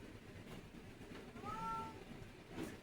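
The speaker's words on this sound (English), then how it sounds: "Excuse my cat. She's on the other side of the door," A female cat in heat meows from the other side of a door, a faint, muffled cry heard once or twice over a low indoor background hum.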